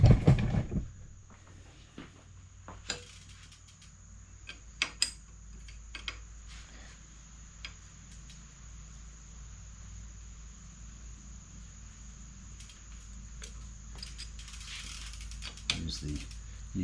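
A part is tightened on a 1972 Schwinn World Traveler bicycle, with sparse metallic ratchet clicks and small taps over a quiet room hum and a faint steady whine.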